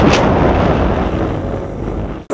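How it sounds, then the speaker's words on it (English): A breakfast cannon firing as a comedy sketch sound effect: a loud, booming explosive blast that rumbles and dies away over about two seconds before cutting off abruptly. "you bring breakfast to them with the breakfast cannon"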